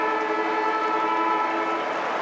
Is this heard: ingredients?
no